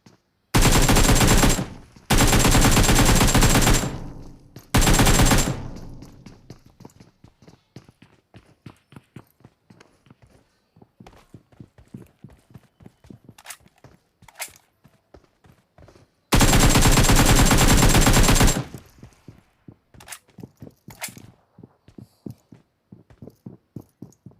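Gunfire in a video game fight: loud sustained automatic bursts, several long volleys separated by a stretch of rapid, quieter single shots and footstep-like clicks, with no talking.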